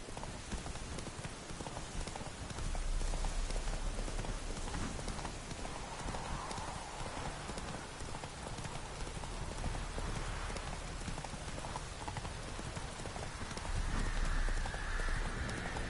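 Roach, the horse in The Witcher 3, galloping with rapid, rhythmic hoofbeats over a constant rushing background, steady throughout.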